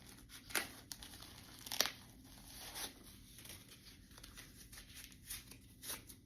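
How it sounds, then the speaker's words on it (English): Paper is pulled and torn off a Coach mini belt bag during an unboxing, with a few sharp crinkling and ripping bursts close by over a quiet background. "I'm going to take the paper off."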